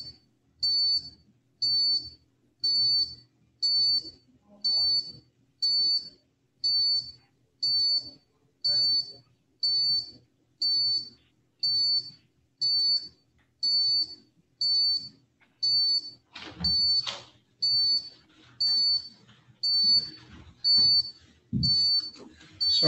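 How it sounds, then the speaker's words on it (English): An alarm in a district courtroom beeps incessantly, a sharp high electronic chirp repeating about once a second for over twenty seconds, moderately loud, with faint murmurs and a couple of brief knocks beneath. "Sorry about that incessant beeping."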